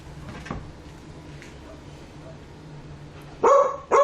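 A neighbor's dog barks twice in quick succession near the end, sharp and fairly close, after a stretch of low background noise and faint indistinct sounds.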